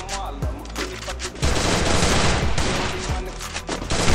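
Rapid automatic gunfire in the mobile battle royale game Garena Free Fire, loud, dense bursts running almost continuously with a heavier sustained stretch in the middle.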